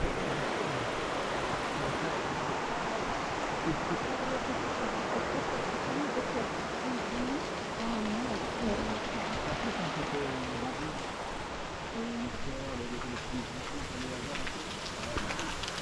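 All Saints Waterfalls in Germany pour in a steady, dense broadband rush that fills the whole stretch without a break, with faint murmuring voices sitting low beneath the roar.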